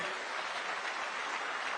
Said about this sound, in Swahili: Tafadhali tuwapigie makofi, hao ni wa UDA.